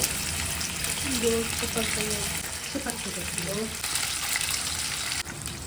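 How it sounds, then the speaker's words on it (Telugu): Fish frying in hot oil in a pan at home, a continuous close sizzle and crackle with a person talking over it. "మంచిగా నూనె వేడెక్కాక ఇలా ఆయిల్లో ఫిష్ ఫ్రై చేసుకోవాలి"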